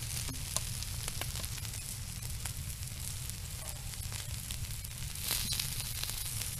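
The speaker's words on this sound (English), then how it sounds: "you can hear them sizzling a little bit there already" Steady, dense sizzling of small caplin fish roasting on a stovetop, a continuous crackling hiss with occasional louder pops, close by.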